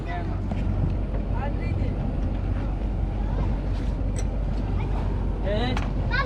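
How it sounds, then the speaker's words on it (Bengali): A motorboat engine on the Surma river drones steadily and loudly with a deep, throbbing rumble, while voices talk over it. "বোট এখন চালু হবে বোট চালু করার জন্য"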